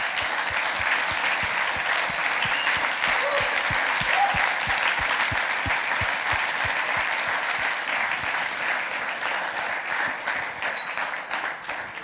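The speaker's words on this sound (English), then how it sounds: "I'd like to ask a big round of applause for these guys" A conference audience at the Porto Tech Hub 2016 event gives a sustained round of applause for the volunteer team, dense clapping from a large crowd that holds steady and then slowly thins toward the end, with no one speaking over it.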